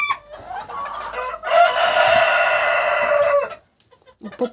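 Chickens clucking in a coop with a rooster close by, a loud sustained crow dominating the middle, brief clucks before and after, and short quiet gaps at the end.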